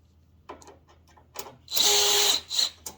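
A power drill backs screws out of the outer case of a window air conditioner, giving a few short taps and clicks, then a steady close whir lasting over half a second and a final brief spin.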